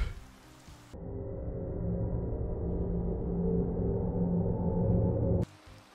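Steady rain in a Minecraft-style video game, a continuous hissing wash that starts abruptly and holds at an even, moderate level with no voices over it.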